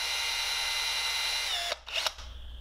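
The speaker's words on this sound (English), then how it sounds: "Don't you guys love close-up footage of somebody drilling in their hand?" A power drill bores into a longnose gar swimbait held in the hand. A close, steady high whine runs for under two seconds, then cuts off with a brief clatter and a short rev.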